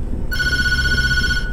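A telephone rings in the horror video game Tattletail, a steady electronic ring that starts abruptly after a brief pause and continues loud and unbroken over a low background rumble.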